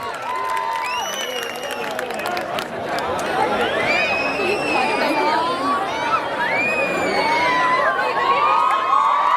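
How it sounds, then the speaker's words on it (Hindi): A mushaira audience in Karachi at the Azraah E Sukhan poetry event breaks into loud, sustained applause and cheering, with whoops and shouts rising over a dense crowd roar that swells toward the end. "तालियों का सिलसिला जारी रहे"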